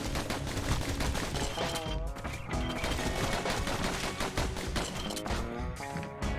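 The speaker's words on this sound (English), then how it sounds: "Oh, those little puffballs explode." Windbag puffballs bursting in the video game Bastion, a dense continuous barrage of loud popping blasts layered over game music, with no gaps between bursts.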